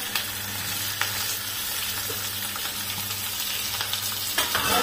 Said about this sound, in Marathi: तर कांदा छान असा तळलाय. थोडासा आणखी तळते.